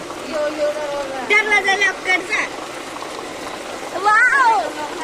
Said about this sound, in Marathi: किती पाऊस पडतोय बा कसला डेंजर पाऊस पडतोय